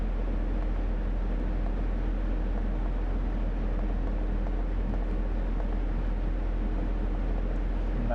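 An engine holds a steady 2500 RPM on a dynamometer, a constant loud broadband drone with a deep low hum that never changes pitch or level.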